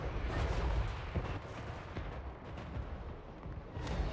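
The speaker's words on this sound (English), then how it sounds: "There goes the cannon fire." Cannon fire in the fantasy battle game Total War Warhammer 3 booms repeatedly in dense, rumbling bursts over the din of battle, loud and continuous with no voices.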